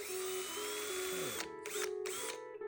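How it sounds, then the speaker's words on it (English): A power drill boring pilot holes into a Fender bass guitar body whines loudly and steadily, then stutters in short on-off bursts near the end, close to the mic and without talk. "So now I'm going to drill out pilot holes in the centers of each of those."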